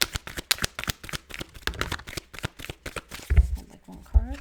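Tarot cards shuffled during a love reading: a quick run of crisp, close riffling flicks and slaps, ending with a couple of heavier taps as the deck is squared.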